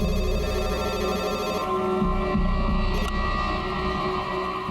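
A mobile phone left charging rings indoors, a steady electronic ringtone with a low hum underneath that carries on for several seconds.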